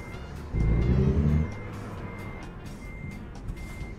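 A heavy truck in American Truck Simulator reversing at a Flying J stop, with a steady high-pitched backup beep, a loud low hiss or engine burst in the first second, then the beeping continuing quietly behind a low idle.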